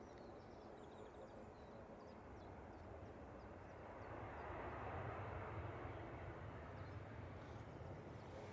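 A Eurowings Airbus A319 airliner arriving at Manchester Airport, a broad distant jet roar that swells gradually and holds steady as it nears, with faint bird chirps in the background.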